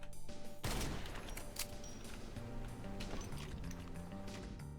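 Gunfire in Doom with the Project Brutality mod: after a brief quiet start, a burst of loud, dense shots and impacts rolls on under a thick game mix with music and effects, steady and close throughout.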